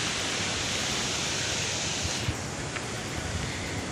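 Water rushes out through an open dam gate at Gangrel Dam, a dense, constant roar like a waterfall that stays loud and unbroken, with no talk over it.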